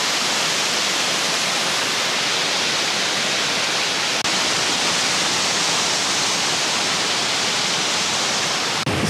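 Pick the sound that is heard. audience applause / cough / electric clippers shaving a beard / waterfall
waterfall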